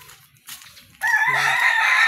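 A hybrid rooster crows loudly and close by, one sustained strained call breaking in after a second of faint clucking and rustling, with no talk over it.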